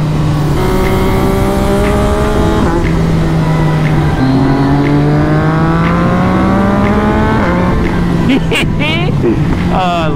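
Yamaha MT-09 motorcycle engine revving loudly and close on an open road, rising through the gears in repeated climbing pulls with brief drops at each shift, wind roar throughout.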